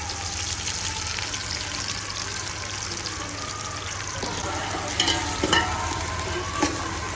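About 350 grams of finely cut onions fry in oil for a ghee rice dish, a steady hiss and crackle with a low hum beneath and a few louder bursts of sizzling toward the end, no talk.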